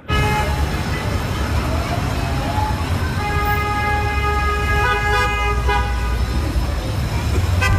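Car horns honk repeatedly in dense Times Square traffic, long sustained toots layered over a loud, constant roar of engines and street noise, with voices mixed in.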